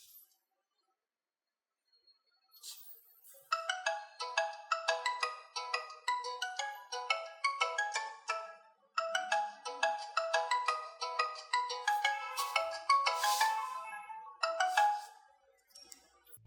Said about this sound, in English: after that, you will hear the ringtone.